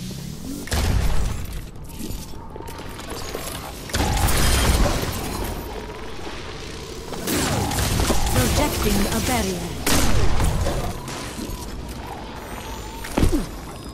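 An Overwatch turret deploys and fires, with mechanical clanks and booming bursts of gunfire rising and falling in heavy waves. A loud, busy battle din runs throughout.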